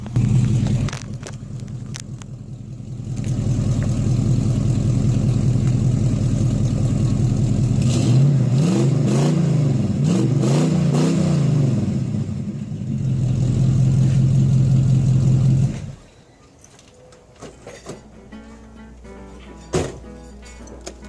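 A 1967 Oldsmobile V8 engine idles with a deep rumble, then revs up hard several times in rising and falling surges before settling back and shutting off.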